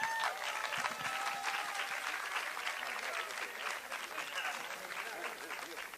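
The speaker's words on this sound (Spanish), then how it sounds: "Un aplauso." An audience at a flat-earth congress applauds in a hall, quiet but steady clapping with a few voices mixed in, continuing throughout.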